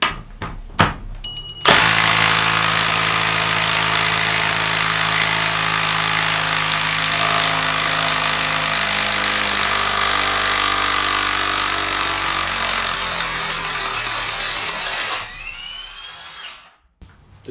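A Milwaukee M18 Fuel half-inch mid-torque impact wrench with friction ring runs loud and continuous for about thirteen seconds removing a driven fastener, after a few short clicks, then winds down and stops.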